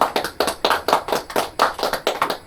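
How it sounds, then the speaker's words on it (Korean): A small group of people claps at a church plaque-presentation gathering, close and loud, with a quick, uneven rhythm of individual claps that keeps going throughout. "박수 한번 해주시고요"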